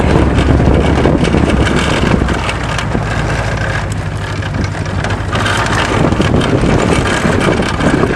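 A propeller-driven vehicle's engine drones steadily and loudly, with a continuous low rumble and heavy wind buffeting across the microphone, no voices.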